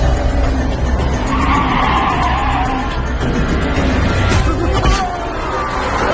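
A car skids to a stop with a sustained tire squeal over engine noise in a dubbed action film scene, loud and close, with a brief voice underneath.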